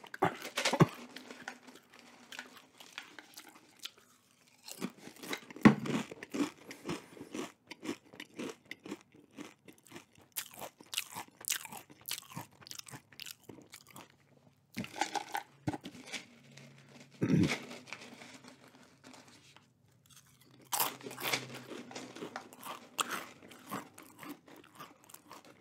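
Nacho Cheese Doritos Minis crunched and chewed close to the mic in bursts of crisp, crackly bites with short quiet gaps between, in a quiet indoor setting.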